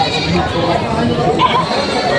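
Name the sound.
goats bleating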